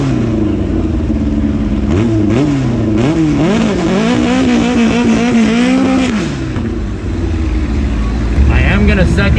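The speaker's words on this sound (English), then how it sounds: "We're about to race this Volkswagen." A twin-turbo Cadillac CTS-V launching in a street race against a Volkswagen, its engine revving loudly and climbing in pitch through quick surges before settling, with a voice speaking briefly over the roar.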